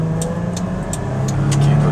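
A car engine hums steadily and builds slightly in loudness, with faint clicking ticks above it and no voices.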